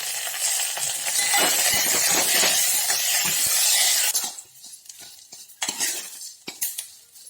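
Cumin and sesame seeds dry-roasted on a low flame in a pan, a spoon scraping and stirring briskly with faint sizzle, continuous and close for about four seconds, then a few sparse clinks and scrapes.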